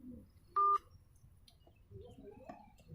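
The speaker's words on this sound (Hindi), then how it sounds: "अभी किशन जी को मिला रहा है।" Single short telephone keypad dialing tone, quiet and brief, amid faint background noise and distant indistinct sounds.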